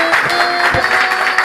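A congregation at Gospel Baptist Church in Harappa gives a brief burst of dense, close applause during Sunday service, a steady patter of many hands with no pause.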